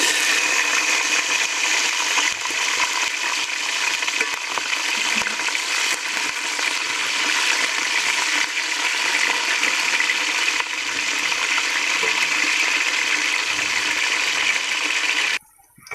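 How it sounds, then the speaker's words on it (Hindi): Cauliflower fries in hot cooking oil for a mixed vegetable dish, a steady, dense hiss and crackle that holds close and even for the whole stretch before dropping away at the end. "अब हम इसी कुकिंग ऑयल में गोभी फ्राई करेंगे।"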